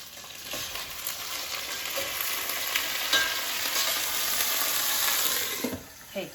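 Zucchini sizzles in a pan while cooking for a vegan zucchini soup, a steady, close hiss of frying with a brief stir and clatter near the end.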